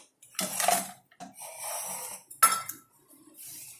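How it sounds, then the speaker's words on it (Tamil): Three ice cubes dropped one after another into a glass for an Oreo milkshake, giving a few close, hard clinks and knocks with short gaps between them. "நாங்கள் வந்து 3 ஐஸ் கியூப் போட்டுக்கிறோம்"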